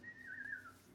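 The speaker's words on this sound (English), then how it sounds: "then he starts whistling" A single short whistled tone, wavering slightly in pitch over about a second, heard alone and fairly quiet.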